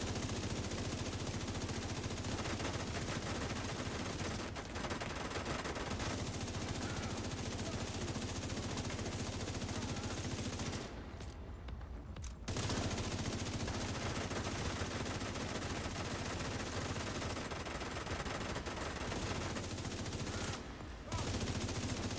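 Sustained gunfire from a firefight in The Division 2 during a United Ironworks solo mission, dense rapid bursts nearly nonstop with two short pauses, loud and continuous.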